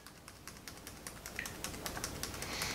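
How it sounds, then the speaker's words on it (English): Rapid, repeated taps on a computer keyboard key, a steady run of light, close clicks that grow slightly denser toward the end, with no talking. "So power, start tapping on F2."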